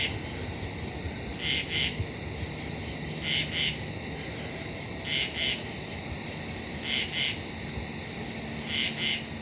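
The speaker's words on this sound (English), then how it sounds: "nice and close up on a common true katydid" A common true katydid calls at night close by, its raspy pulsed bursts repeating roughly every two seconds over a steady, high insect chorus.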